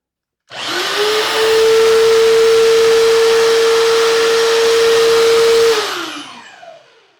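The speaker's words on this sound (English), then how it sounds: "show you this spindle sander because this is pretty cool" A benchtop spindle sander motor spins up, holds a loud, steady whine for about five seconds, then winds down and fades out, with no talk over it.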